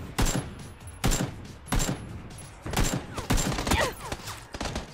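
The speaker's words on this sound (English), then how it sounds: "Somebody shooting at me." Rapid bursts of gunfire in PlayerUnknown's Battlegrounds, loud repeated volleys in an uneven rhythm, some shots closer and sharper, others overlapping into clattering fusillades, with faint voice chatter underneath.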